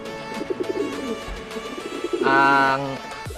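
Taiwan racing pigeon cooing close by, a low throaty coo swelling briefly near the end amid soft rustling and a few faint background chirps.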